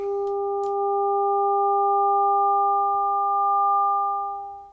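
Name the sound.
synthesized sine tone note panned between speakers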